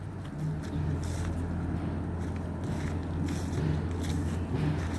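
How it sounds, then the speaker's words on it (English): Steady low engine rumble of buses on the main road to Madikeri in Coorg, running continuously nearby at moderate volume with faint scattered outdoor noises and no clear speech. "you can hear sound of buses and this thing."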